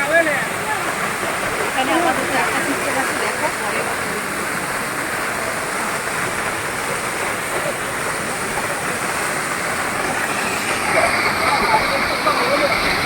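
Seven Sisters Falls waterfall in Sikkim, a steady loud rushing roar of falling water heard close up throughout, with a voice faintly present in the background.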